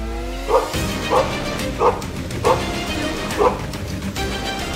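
A police canine barks five times in a slow, evenly spaced series, loud and close, with a faint vehicle hum underneath.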